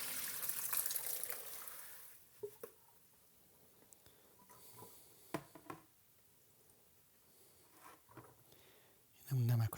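Cured salmon roe being rinsed with mineral water and drained through a mesh strainer: a soft hiss of running water at first, then quiet taps and small clinks, with a louder clatter at the end.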